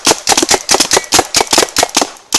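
Paintball gun firing rapidly at a prototype battle suit, a quick string of about a dozen close, sharp pops in an uneven rapid rhythm, loud and without talk.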